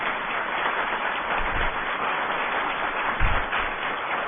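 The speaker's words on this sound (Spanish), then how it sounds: "Démosle un gran aplauso, por favor." An audience at an academic lecture event applauds with dense, steady clapping that fills the whole stretch at a fairly loud level, without talk over it.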